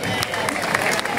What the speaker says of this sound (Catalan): Un aplaudiment per ella també.